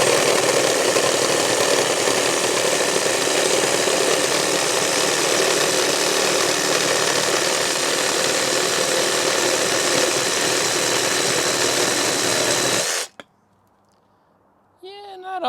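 A Sawzall reciprocating saw fitted with a pruning blade cutting hard wood, a loud continuous buzzing drone that runs for about thirteen seconds then cuts off abruptly, followed by near silence and a brief faint sound.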